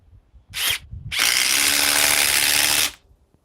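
A model 870 power tool: a brief whirring burst, then a loud, steady run lasting about two seconds before stopping abruptly, close and without talk.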